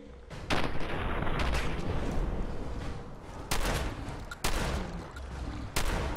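Gunfire in the video game Fallout 4: a run of loud, sharp shots and bursts, some spaced and some rapid, cracking over a constant rumbling combat background.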